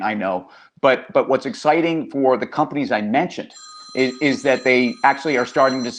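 Telephone rings in a studio during a business discussion, a bright electronic ringing tone that repeats through the second half, partly under continuous talk from someone speaking.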